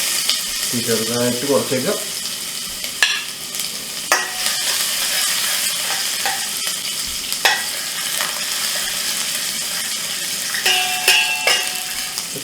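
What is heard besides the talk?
ginger frying in oil in a pan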